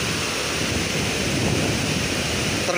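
Heavy floodwater rushes through the old Dutch-built Serepetan dam (Dam Karacak) in a loud, steady, unbroken roar that fills the whole stretch, with no voices.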